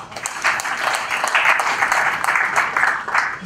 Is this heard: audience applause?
yes